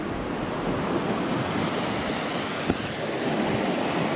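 Water of Barnes Creek flowing along Washington Highway 101, a steady moderate rush with wind noise, continuous and without voices apart from one brief thump.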